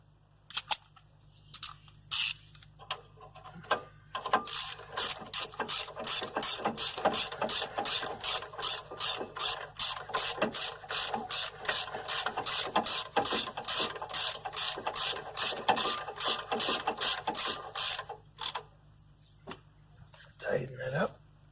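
Front brake caliper bolts on a Renault Scenic are tightened with a ratchet, giving a long, steady run of rapid, even clicks close by, with brief handling noises before and after.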